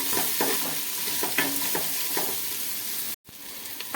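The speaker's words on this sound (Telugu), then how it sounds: "ఇవి ఫ్రై అయినాయి కదా, ఇప్పుడు ఫ్రెష్గా దంచుకున్న అల్లం వెల్లుల్లి పేస్ట్ కూడా అయితే యాడ్ చేసుకోవాలి" Onions frying in a pan and being stirred as fresh-pounded ginger garlic paste goes in: a steady loud sizzle with repeated scraping spoon strokes, briefly cut off near the end.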